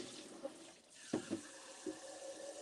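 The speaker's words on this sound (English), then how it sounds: "So I'm going to put these things in here. Rinse it out a little bit." Tap water runs softly into a sink while something is rinsed, with a few brief splashy bursts and clinks over a steady faint flow.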